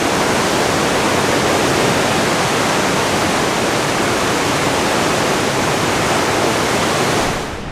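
Powerful river rapids on a Finnish hiking trail roar in a loud, dense, unbroken wash of water noise that fills the whole scene and fades slightly at the very end, with no voices.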